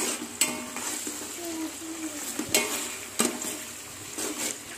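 Ginger garlic paste sizzles in a pan for chicken biryani, with a steady close fry and repeated scraping stirs from a utensil against the pan.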